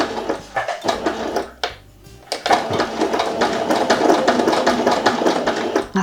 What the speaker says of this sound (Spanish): Cosemos la tela, o bien sencilla o bien doble, como queráis